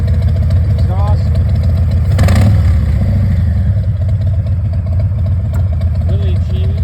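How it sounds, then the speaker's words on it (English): A 2022 Harley-Davidson Heritage Classic 114 motorcycle with Reinhardt exhaust idles close by, a deep, even, throbbing rumble that holds steady from start to finish. "Listen to that exhaust. These are Reinhardt exhaust."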